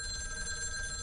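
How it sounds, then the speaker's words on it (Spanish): A telephone ringing in the PS5 video game Lake, a steady electronic ring that holds for a moment on its own, with no talking. "Vale, teléfono."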